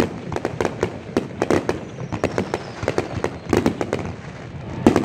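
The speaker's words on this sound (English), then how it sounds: "Big old fireworks show out here at I-75." Fireworks show at I-75 Raceway after a crate late model race night, a rapid series of sharp firecracker pops and bursts at irregular intervals, fairly close and loud, with faint background noise between the bangs.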